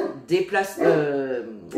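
A pet dog barks and yelps in a few sharp bursts close by, then a longer whining howl, with a person's voice mixed in at times.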